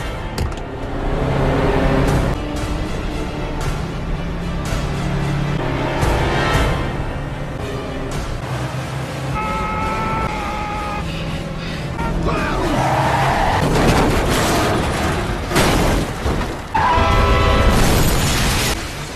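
Cars and buses crash during a movie chase scene, with repeated heavy impacts, bangs and revving engines over a dense, loud action soundtrack and a voice talking.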